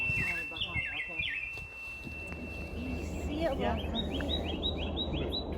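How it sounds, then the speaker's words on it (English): Ruby-crowned kinglet song at a summer bog: rising chattering phrases and high repeated notes, faint and somewhat distant, with people talking softly over parts of it. "Ruby crowned kinglet."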